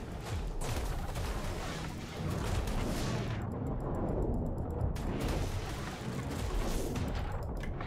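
A mech fires repeated loud, close bursts in ARK, with dense rapid shots that keep going for several seconds, broken by a short quieter gap in the middle.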